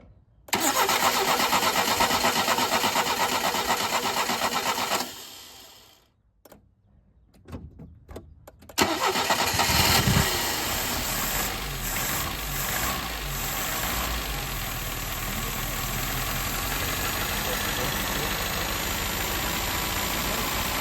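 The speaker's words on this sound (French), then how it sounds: "Donc là, ça démarre, ça a l'air de vraiment bien tourner" A Peugeot 305 Turbo engine starts for the first time in ten years. It cranks, catches and roars loudly, then cuts out briefly, restarts and settles into a steady, close idle.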